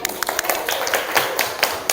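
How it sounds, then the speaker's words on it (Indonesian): Students in a classroom clap along at a teacher's prompt, a brief patter of scattered hand claps, fairly close and moderate in volume, under a murmur of voices. "Tepuk tangan lagi."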